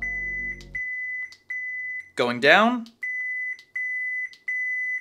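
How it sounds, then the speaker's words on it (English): A Starkiller TFU2 Neopixel lightsaber gives a run of short, evenly spaced high beeps as its volume changes. The beeps are close and clear, broken once by a brief spoken phrase. "And that beep right there means you're at max volume"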